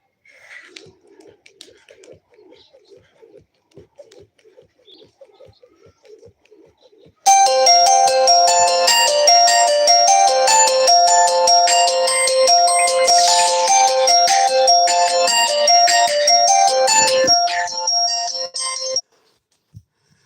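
An incoming call sets off a phone ringtone: a loud, bright electronic melody that loops for about twelve seconds and then stops abruptly, after faint scattered room sounds beforehand.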